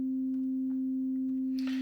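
A steady, pure sine wave tone sounds from a Roland Zenology synth partial, holding a single unwavering pitch throughout with a faint noisy burst near the end.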